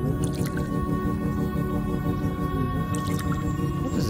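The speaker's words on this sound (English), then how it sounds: "What is this strange water?" Water sloshing and dripping in the video game Unmechanical, a continuous wet squishing and gurgling with scattered drips, steady and fairly loud throughout, layered over a droning tonal game background.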